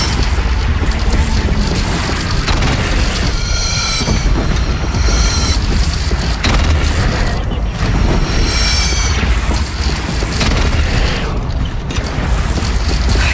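Loud, continuous rumbling cannon fire in the video game Horizon Zero Dawn, with heavy booms and crashes layered over one another, dense and unrelenting throughout.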